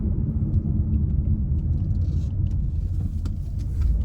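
A 2022 Mazda CX-30 Premium pulls away from a stop, heard from inside as a steady, fairly loud low engine and road rumble with no pauses.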